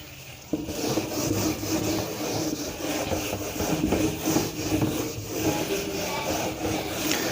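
A board duster rubs chalk off a classroom board during a percentage maths lesson, making steady, continuous scraping strokes close by for the whole stretch, with no talk.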